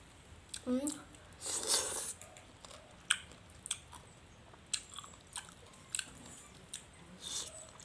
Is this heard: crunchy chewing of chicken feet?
yes